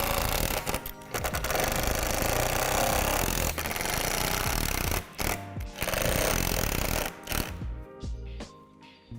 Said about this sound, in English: you're going to need to use a drill to attach them